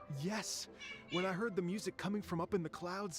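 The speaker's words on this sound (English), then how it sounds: "oh, that's my cat." A pet cat meows in several drawn-out calls, mixed with a voice speaking game dialogue during the Lantern Rite event in Genshin Impact.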